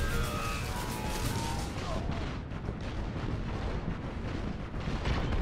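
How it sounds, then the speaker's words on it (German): A video-game explosion in Destiny sounds as a dense, sustained roar of blast noise and rumble filling the whole stretch, loud and unbroken, with game effects layered throughout. "Ah ja, die Explosion."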